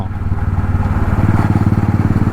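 A modified three-wheeled Royal Enfield motorcycle with a Ducati-style build and two rear tyres rides along a city road in Vijayawada. Its close, steady low-pitched thump beats in an even rhythm.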